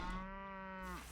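A cartoonish cow moo from the Bat Cow card in the DC Dual Force digital card game, one sustained, loud, harmonic lowing call that slides downward at the end, heard alone.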